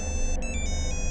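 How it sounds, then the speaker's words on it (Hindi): A phone ringtone sounds for an urgent call, a short run of repeated electronic tones over a steady background hum. "एक अर्जेंट फोन है"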